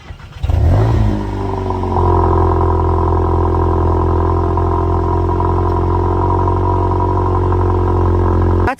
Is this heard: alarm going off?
no